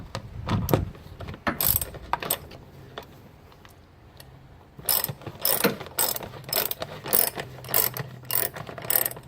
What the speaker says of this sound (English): tighten up the bolts.